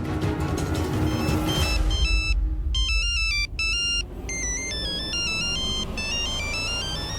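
A mobile phone ringtone plays loudly and close, a bright repeating electronic melody of stepped tones over a low background hum, with no talk.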